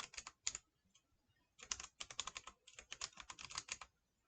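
Fast typing on a computer keyboard while entering VBA code, in dense bursts of key clicks split by short pauses, close and fairly quiet, with no talking.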